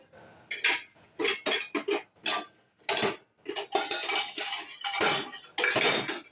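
Bowls and spoons knocked and set down in quick succession, sharp close clinks and clatters of dishware coming in irregular bursts with brief pauses between.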